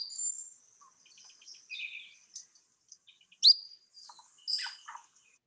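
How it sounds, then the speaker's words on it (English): Cuban La Sagra's flycatcher giving short, sharp call notes, several separate chips and brief whistled phrases spaced over a few seconds, clear and close with no other sounds. "common short flycatcher call."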